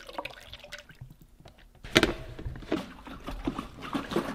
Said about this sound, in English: put our solution into it, and then shake it all around so that we can get some air into it